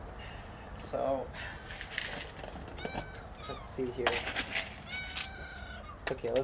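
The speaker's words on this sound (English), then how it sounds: "I guess I'll feed them now. Alright, kitty cats." Pet cats meowing at feeding time, with several short, insistent meows scattered close by while a person talks over them.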